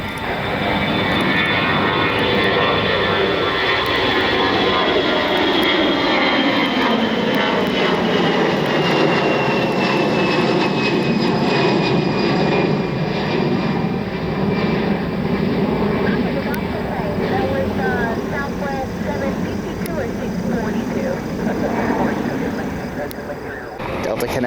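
A jet airliner rolls down runway 24 left at an airport and takes off, its engines roaring loud and steady for the whole stretch with a sweeping whine that gradually shifts in pitch; voices come through faintly beneath the engines.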